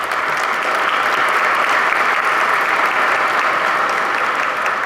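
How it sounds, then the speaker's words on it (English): Sustained audience applause fills a room at a county chamber of commerce dinner in Marion County, West Virginia, a dense, steady clapping from a large crowd that holds at even loudness throughout. "I'd like to give him a round of applause"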